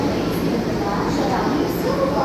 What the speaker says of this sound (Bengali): এই যে ট্রেন ঢুকছে,